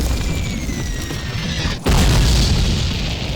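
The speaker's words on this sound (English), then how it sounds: "Mortars! Incoming!" Mortar fire lands in a World War II battle cutscene from the 2003 Call of Duty game. A single heavy boom bursts out midway, then leaves a loud, rumbling wash of noise.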